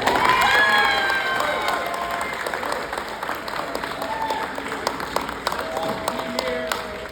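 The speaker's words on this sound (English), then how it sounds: "give these graduates a round of applause" A crowd at a high school graduation breaks into a round of applause with scattered cheers and shouts, loudest at first and then settling into steady clapping.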